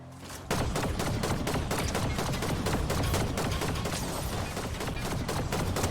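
Rapid, sustained gunfire from a Fortnite match, with dense bursts of shots cracking nonstop and loud at close range, with no talking over it.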